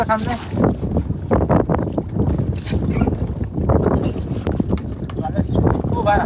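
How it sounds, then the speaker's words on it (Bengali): Wind gusts across an open boat on a Sundarbans fishing trip, a steady rough buffeting roar that fills the whole stretch, with voices partly buried beneath it. "হাওয়া হচ্ছে তো"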